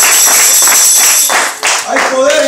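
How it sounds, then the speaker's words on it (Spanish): A church congregation claps for a few seconds in a dense, rhythmic burst of applause, with voices mixed in as a worship service carries on. "Dale un aplauso a Él."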